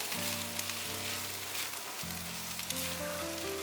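Red pepper strips stir-fried in a wok for a vegan potato and cucumber dish, giving a steady, moderately loud sizzle with crackling spatter throughout, alone and with no voices.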